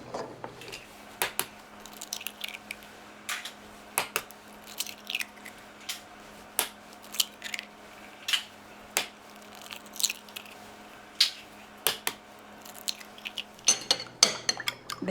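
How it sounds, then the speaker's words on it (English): Whisk or fork beating six eggs in a mixing bowl while making Southern golden macaroni and cheese, a steady run of sharp clicking taps against the bowl, close and fairly loud, with no talking. "Beat them up a little bit."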